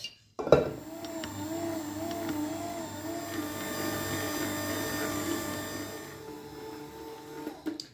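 Stand mixer kneading gluten-free, lactose-free dough with margarine using a dough hook, starting with a knock and then a steady whirring motor hum with a rhythmic wobble, fairly quiet and alone, fading near the end.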